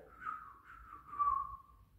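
A person whistles a wavering melody indoors, a thin steady tone that rises and dips over about two seconds and plays alone at moderate loudness.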